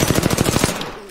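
Rapid automatic gunfire from a multiplayer shooter video game, a dense burst of about ten quick shots rattling loudly and close before cutting off.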